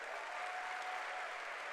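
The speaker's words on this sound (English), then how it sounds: "give her a round of applause" Steady applause from an audience, a dense wash of clapping hands that holds at an even level throughout.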